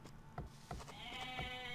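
Sheep in the Age of Empires II video game bleat in short repeated calls. The bleats are faint and sit over a steady soft game background.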